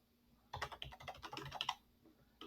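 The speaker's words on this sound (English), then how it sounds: "you can type your message in here" Quick burst of typing on a computer keyboard while entering a follow-up note, close and fairly quiet, with rapid key taps for about a second and a half and no talking.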